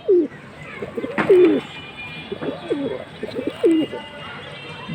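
Silver and Sapchila pigeons cooing at a pigeon market: repeated throaty, rolling coos in a steady rhythm, close and clear, over a faint background murmur.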